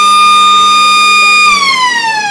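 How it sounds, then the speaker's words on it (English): Loud quarter-time siren at an Australian rules football match, a sustained pure tonal wail that holds steady and then slides downward in pitch as it winds off. "So Mendes, right in the quarter-time siren."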